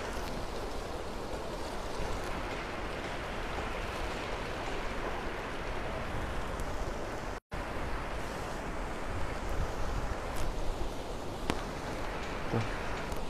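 The flooded Lybid river in Kyiv, overflowing its banks, makes a constant loud roar of rushing water and waves with steady broadband noise and a brief dropout partway through.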